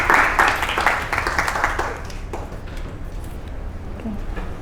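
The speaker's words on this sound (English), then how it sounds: "Clap your hands for Mustafa." Classroom students clap together for a classmate, a short burst of dense, fairly close applause that fades out over a few seconds into quieter room noise.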